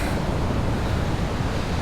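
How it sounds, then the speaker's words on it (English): Big ocean waves break at Sunset Beach on Oahu at sunset, a steady, loud roar of surf and wind that fills the whole stretch with no pause. "People are sitting down and just enjoying really big waves actually"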